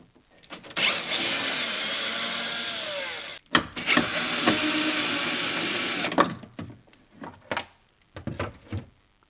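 A power tool backs out two 10mm bolts on the frunk of a Tesla Model Y. It comes as two steady, close bursts of a few seconds each, separated by a short pause, and then trails into scattered clicks and handling knocks.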